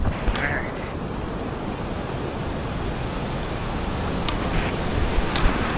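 Rough open sea off a Jamaican reef, with continuous broadband wave wash and wind buffeting the microphone from a boat, steady and loud throughout with occasional brief knocks.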